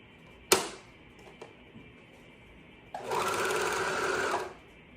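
A sewing machine stitches fabric pieces for baby bummies, running in one steady close burst of about a second and a half after a sharp knock and a brief tap.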